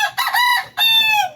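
Backyard chickens on a farm, close and loud: a rooster gives two strong, drawn-out crows in quick succession, each bright and strained, with no talk over them.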